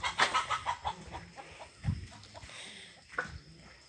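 Chickens on a small Brazilian farm cluck in a quick run of rhythmic calls up close, then a few scattered squawks and softer clucks.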